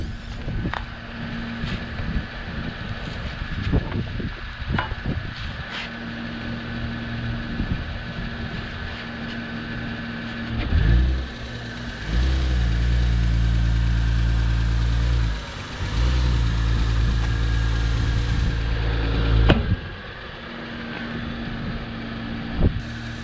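A car engine idles steadily and then revs in two sustained bursts, with metal clanks, while a tire is T-beaded onto its rim using the car and a welded-together metal rig during a Land Rover Discovery restoration.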